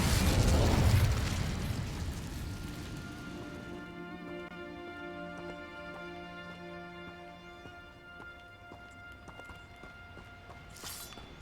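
The Incendio fire spell in the video game Hogwarts Legacy hits with a loud, fiery burst that decays into a sustained rumble with ringing tonal layers, before a final sharp crack at the end.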